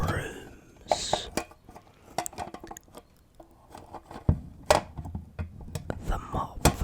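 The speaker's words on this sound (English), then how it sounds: "He rustles through the pots and the pans, the brooms," Pots, pans and brooms being rummaged through, heard as scattered metallic clinks, clatters and soft shuffles that come in irregular bursts, close and moderately loud, with brief quiet gaps.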